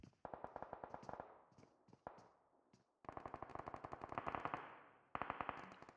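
PUBG Mobile gameplay from a women's pro league grand final: rapid bursts of automatic gunfire crackle in quick volleys, broken by sharper single blasts and short pauses, loud and close with no talk over it.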